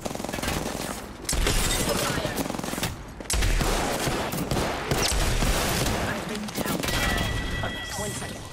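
Dense automatic gunfire from an Apex Legends match, sustained bursts rattling almost continuously with short gaps, mixed with game effects and a voice talking over it.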